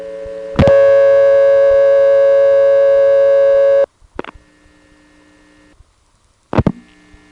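Telephone busy signal heard after dialing through an independent step-by-step exchange in Cabot, Vermont, in 1978: a loud steady tone holds for about three seconds, then cuts off, followed by brief clicks and a short burst of tone.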